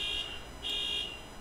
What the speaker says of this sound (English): got somebody's alarms going up